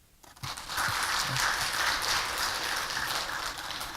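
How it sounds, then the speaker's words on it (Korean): Church congregation applauding the worship team, a dense steady wash of many hands clapping that swells in after a brief quiet start and holds evenly throughout, moderately distant. "찬양팀에게 박수 한번 해주세요"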